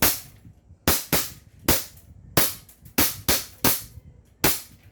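A 1911 airsoft pistol fires eight sharp, close cracks at an uneven pace over about four seconds, each snapping report decaying quickly into quiet.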